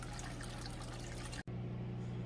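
Aquarium water for African cichlids rushes steadily through a siphon hose, a loud, continuous broadband flow that drops out for an instant before resuming.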